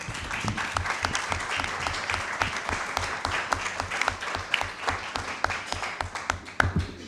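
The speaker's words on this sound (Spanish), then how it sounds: "te agradecemos y te damos un aplauso" A modest audience at a Chilean political debate claps, distinct individual hand claps forming a steady, fairly sparse round of applause throughout.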